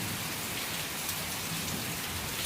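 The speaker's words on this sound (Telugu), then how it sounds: "ఇంత భారీ వర్షం పడటం వల్ల మనకు ఈ ప్రకృతి కూడా ఎంత పులకరిస్తుందో చూసారా" Heavy monsoon rain pours down in a dense, loud, unbroken hiss, spattering on surfaces nearby, with no voices.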